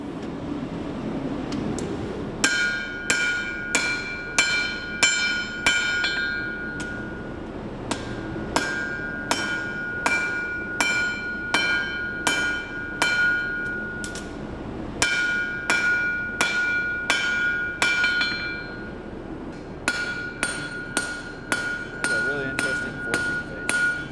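Knife blade bevel hammered at a forge: sharp, ringing metal strikes on an anvil fall in quick rhythmic bursts of about six to eight blows, with short pauses between bursts, loud and close over a low background hum.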